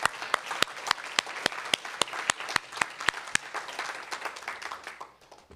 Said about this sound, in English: Can we have another big round of applause for Porsha Olayiwola?